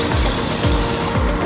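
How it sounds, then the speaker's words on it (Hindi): Water being poured into a pot to make sugar syrup for gulab jamun, a loud, close, continuous splashing stream with rhythmic gurgling pulses, heard alone. "2 बाउल पानी भी डालना है।"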